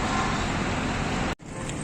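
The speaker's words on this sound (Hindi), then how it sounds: "अब अल्लाह का शुक्र है कि ट्रैफिक चल पड़ी है।" Road traffic flowing near the Bhara Kahu flyover construction site, a steady loud roar of passing vehicles close by that drops briefly before resuming.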